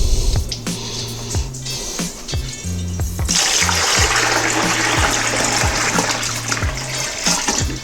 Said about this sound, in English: Drain this out, and we have one more cycle.